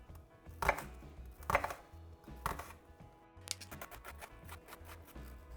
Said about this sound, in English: So I'm just chopping up some red onion.